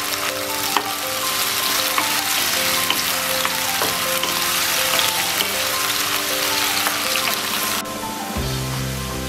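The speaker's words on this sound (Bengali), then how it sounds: "পাঁচ থেকে 7 মিনিট ভাজলে আলুগুলো হালকা সিদ্ধ হয়ে যাবে।" Potato pieces frying in oil in a pan give a loud, continuous crackling sizzle with bursts of popping spatter and occasional scraping stirs. Near the end the sizzle suddenly changes tone with a low hum, and no one talks.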